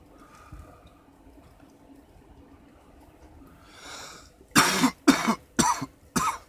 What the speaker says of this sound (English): I apologize for coughing here